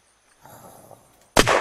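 Sharp, loud gunshot burst from the survival video game Unturned, cutting in late after a stretch of quiet low rumble and ringing on in a dense close blast.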